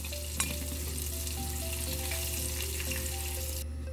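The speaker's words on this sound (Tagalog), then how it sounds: "Tapos na tayo magprito ng pangalawang prito ng ating chicken" Chicken wings sizzle in hot oil during their second fry for salted egg chicken wings. A soft, steady crackle and hiss continues throughout, with a small clatter near the start and no voices.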